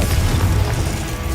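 Confringo, a fiery blast spell cast in the Hogwarts Legacy game, erupts as a loud, dense booming burst with a deep rumble that stays steady through the short moment, with no voices.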